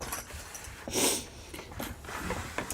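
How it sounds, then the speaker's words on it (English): A person with hay fever gives one short, quiet nasal sniffle near the middle, against faint background noise. "we both have the sniffles"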